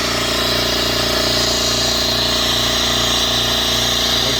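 A Makita MAC700 air compressor with a leak runs continuously and loudly up close, its pump thumping in a fast steady rhythm with a hissing layer on top.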